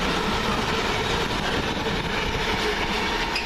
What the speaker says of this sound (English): And here comes my train out of here.